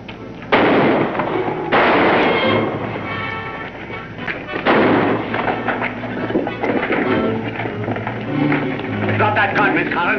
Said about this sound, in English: As they start to shoot, she opens up on them.